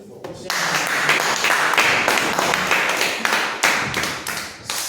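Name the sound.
congregation applauding loudly in church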